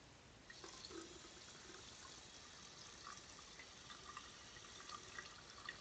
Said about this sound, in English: The stream from the hot water is immediately sucked into the extractor fan.